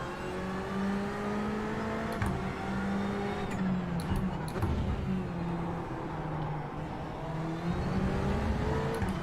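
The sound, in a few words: race car accelerating at Indianapolis in the game iRacing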